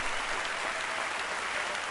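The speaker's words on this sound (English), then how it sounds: "There was a huge wave of applause." A wave of applause fills a scene in the video game Steins;Gate 0, a dense, even clapping that holds steady for a couple of seconds.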